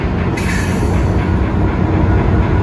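A train runs loudly and close along the tracks, producing a dense continuous rumble with metallic rattling of wheels and cars, no voices.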